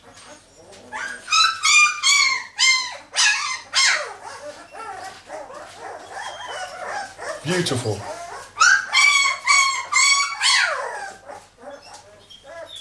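Anxious bitch dog whimpering, yipping and barking in repeated high bursts among a litter of five-week-old pups, close by, with a person talking and soothing in between.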